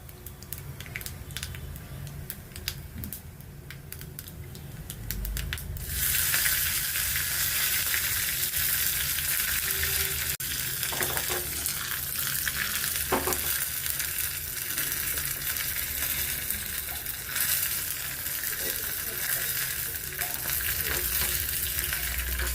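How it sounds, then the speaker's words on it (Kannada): Cumin seeds drop into hot oil and a loud, steady sizzle starts partway through, crackling on close by with occasional clinks and scrapes. "ಎಣ್ಣೆ ಕಾಯಿಲಿ ಜೀರಿಗೆ ಹಾಕ್ಕೊಳ್ಳೋಣ. ಜೀರಿಗೆ ಸ್ವಲ್ಪ ಜಾಸ್ತಿ ಇರಬೇಕು."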